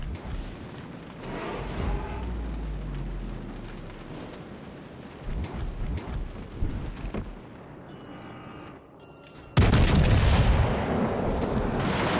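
Naval gunfire from HMS Hood in World of Warships Legends: deep booming rumbles roll through dense battle noise, ending in a loud sustained blast at close range.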